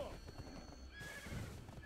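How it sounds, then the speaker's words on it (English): Horse in the Black Desert Online video game neighing loudly and near, with galloping clip-clop hoofbeats running underneath and a player talking over them. "have like one of the fastest horses you can get, and sometimes it gets too fast"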